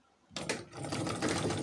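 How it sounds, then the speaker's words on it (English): A sewing machine top stitching a double-breasted jacket starts after a brief quiet moment and keeps running as a steady, close, whirring mechanical drone. "Then top stitch on the sewing like this."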